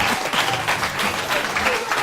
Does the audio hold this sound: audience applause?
yes